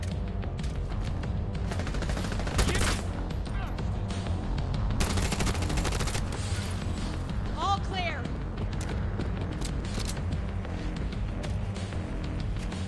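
Gunfire in The Division: Resurgence mobile game arrives as repeated rapid bursts and single shots over a dense, constant game soundscape.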